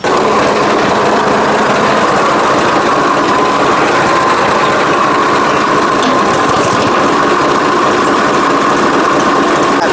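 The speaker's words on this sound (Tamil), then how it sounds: "எப்படி ஆப்ரேட் பண்ணுறதுன்னு உங்களுக்கு ஓட்டி காமிச்சிட்றேங்க பாருங்கள் எல்லோரும்" The engine of a homemade farm machine runs loud and close in a steady, high-pitched drone with a continuous buzzing vibration and no pauses or talk.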